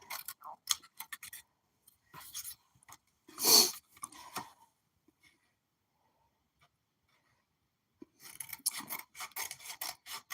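Knife cutting up a pineapple, close scraping and rasping strokes in irregular bursts, a louder slice in the middle, then quiet before another flurry of rapid cuts.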